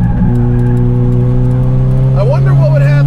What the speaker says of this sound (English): I give him 10 points for engine sound.